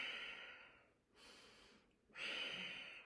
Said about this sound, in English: So we'll do that fast breathing, and then we'll take that motion and we'll slow it down.